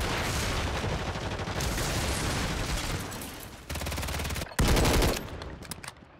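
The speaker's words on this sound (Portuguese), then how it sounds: "Só pelo barulho do tiro." Rapid bursts of automatic gunfire in Call of Duty: Warzone 3 rattle almost continuously, with a few louder sharp volleys near the end before trailing off.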